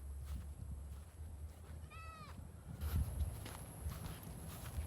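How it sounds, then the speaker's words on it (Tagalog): A single goat bleat rings out midway over a low outdoor rumble, followed by faint hoof-like thuds and shuffling. "Daming kambing dito sa amin sa kabilang ilog."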